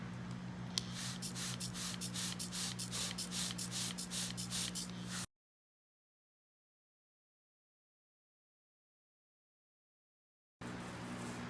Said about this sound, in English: that was exhausting spraying that fast